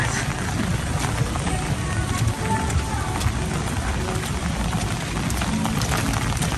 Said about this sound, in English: How's that rain?